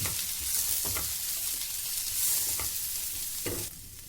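Spice powders stirred into a frying mixture in a pan for soft chapati, a steady close sizzle broken by several sharp scraping strokes of the spoon, then quieting abruptly near the end.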